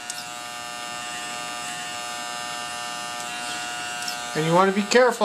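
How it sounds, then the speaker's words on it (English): An electric hair clipper hums with a steady, close buzz while cutting hair, continuing under a man's speech near the end. "Do not press too hard with this clipper."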